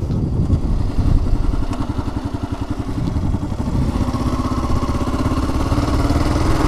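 Kawasaki KLR 650 motorcycle riding on a windy day, its single-cylinder engine thumping steadily and loudly throughout with a close, rough pulsing tone and wind noise.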